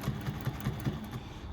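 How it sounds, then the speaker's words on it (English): A sewing machine back stitching binding onto a bag's flap panel, a quick close burst of rhythmic mechanical chugging with evenly spaced needle thumps over a motor hum. "I'm just going to back stitch a couple of times just to secure my stitching."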